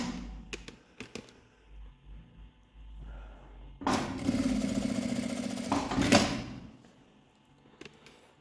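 A sewing machine stitches a straight seam on a small fabric wallet, a close mechanical whirr lasting about three seconds after quiet handling sounds, then stopping and leaving faint rustles.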